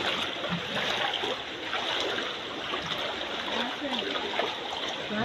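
Floodwater pouring into a house, a dense continuous rushing and trickling of water with splashes, steady and close, with people talking faintly underneath.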